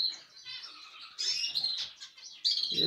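Canaries and zebra finches in an aviary give bright, rapid chirps and tweets in overlapping bursts, close and fairly loud, with no voices.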